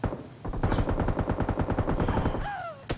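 Rapid automatic gunfire in a shooter video game, a fast string of sharp evenly spaced shots lasting about two seconds, then a short trailing whine and one final crack.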